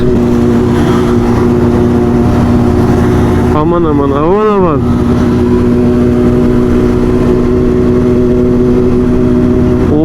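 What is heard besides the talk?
exhaust of revving vehicle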